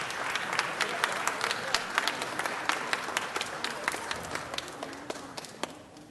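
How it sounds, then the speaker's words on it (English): Applause at a city council meeting, a sustained round of many hands clapping in a large chamber, steady and moderately distant before gradually tapering off, with voices faintly beneath. "Let's give him one more round of applause."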